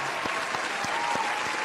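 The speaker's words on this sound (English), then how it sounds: "Let's give a cheer." Studio audience applauding and cheering at a political talk show, a steady dense wash of clapping with a few louder claps standing out, close and sustained throughout.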